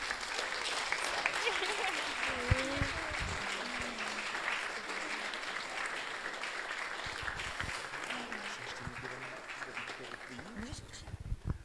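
An audience at the NA Sever 2024 event breaks into sustained applause, a dense wash of clapping lasting several seconds, with voices talking and calling out under it.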